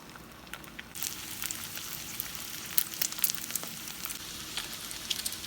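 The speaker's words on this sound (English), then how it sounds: "we're going to fry the pierogies on both sides until they're golden brown" Pierogies fry in melted butter in a pan, a close, steady sizzle that swells after the first second and carries on with fine crackles and pops throughout, with no talking.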